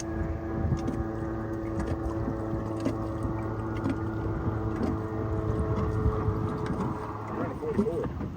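A Polaris SL750 personal watercraft running on open water, a steady engine drone with splashing and wind, fairly distant and even in level.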